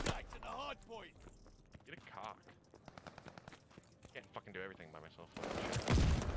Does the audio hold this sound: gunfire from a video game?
yes